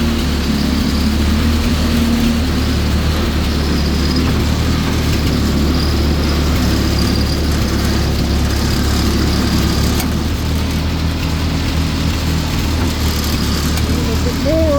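A Ford 8N tractor engine runs while driving, a loud, steady low rumble and drone that continues unbroken throughout, close by with no pauses.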